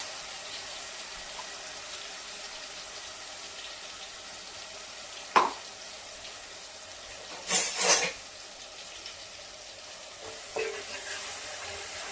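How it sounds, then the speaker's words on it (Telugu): Ground green chili paste dropped into hot groundnut oil for a brinjal curry, a constant low sizzle broken by a sharp splash and a couple of brief clattering spikes from the pan. "ఆయిల్ వేడెక్కిన తర్వాత ముందుగా మనం మిక్సీ పట్టుకున్న పచ్చిమిర్చి పేస్ట్ వేయాలి"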